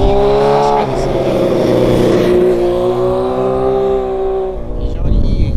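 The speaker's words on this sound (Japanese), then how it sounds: "インライン4の音がすごくいい" An inline-four engine revs near Kase River Dam in Saga, producing a strong, steady harmonic drone that sags slightly in pitch before cutting off abruptly near the end.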